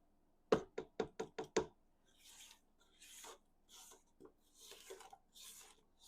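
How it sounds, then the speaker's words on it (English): A spatula scrapes the sides of a mixing bowl while making Christmas cookies: a quick burst of five or six knocking taps, then several softer, uneven rasping scrapes, close and quiet with no speech. "I'm going to scrape down the sides."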